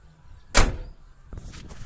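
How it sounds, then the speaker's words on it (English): A Nissan GQ door without sound dampening opens with one sharp, loud, echoing metallic clunk, followed by quieter rattles and faint handling sounds. "Just a quick opening of the door"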